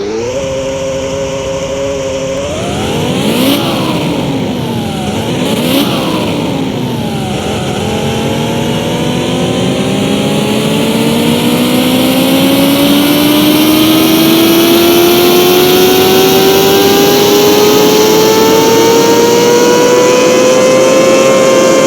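A car engine in Car Mechanic Simulator 2021 revs on the dyno, with a couple of quick blips, then a long loud climb through the rev range, the pitch rising steadily toward a high scream.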